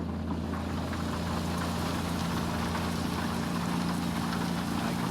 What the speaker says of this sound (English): that rain sounds really good. Really loud though.